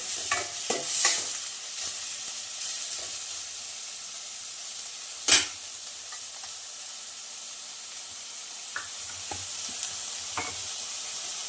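Tomatoes sizzle and fry in the spiced base for a capsicum paneer curry, a steady soft hiss with a few louder stirring scrapes and clinks, close and alone with no talk.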